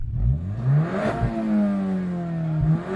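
A Skoda Superb engine revs up and down with rising and falling whine, bouncing against its soft rev limiter with brief stutters, loud and close.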